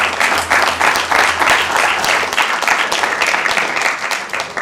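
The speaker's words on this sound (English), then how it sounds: "That's worth a round of applause." Audience applause at a city council meeting in Sacramento after a unanimous vote: a loud, steady wash of many hands clapping for about five seconds, with no speech over it.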